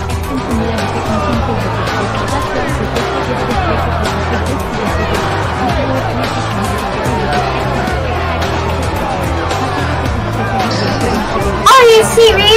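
Crowd chatter fills a busy space in a steady wash of overlapping voices and murmuring, constant and close, with a sharper sound near the end.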